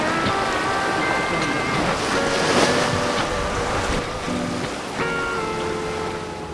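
A small boat cruises through open ocean waves off Australia's north west coast at about 7 knots, with a steady rush of water and wind continuing throughout, plus a faint motor hum beneath.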